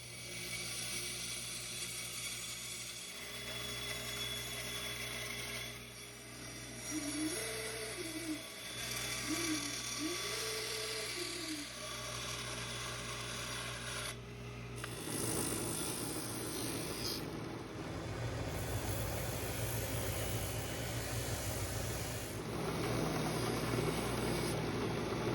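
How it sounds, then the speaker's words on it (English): Bandsaw cutting wooden lifts for a half-hull boat model: a steady mechanical hum and buzz running throughout, growing coarser and louder in the second half as the blade works through the wood, with no talk. "what I can do is start working on cutting them out on the bandsaw."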